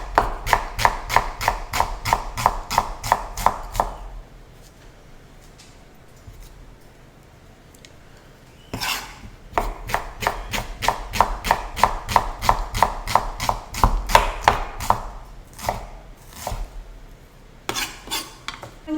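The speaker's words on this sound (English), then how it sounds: "I've got 1 onion that I'm going to add. And I'm just going to slice that." A knife slices an onion on a cutting board in a home kitchen, giving quick, evenly spaced chopping taps in bursts, with a short pause in the middle before the steady cutting resumes, close and fairly loud.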